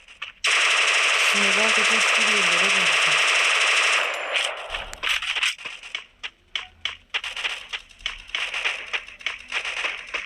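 Gunfire in a video game: a long continuous loud burst of rapid automatic fire, then a run of sharp single and clustered shots, with a voice talking briefly partway through.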